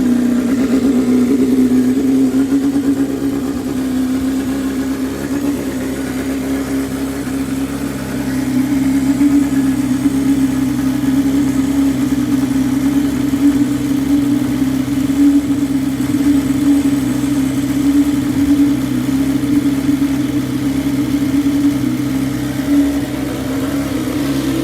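A BMW S1000XR motorcycle idling with a steady, even exhaust drone, close and loud, holding a constant rumble throughout with no revving and no talk.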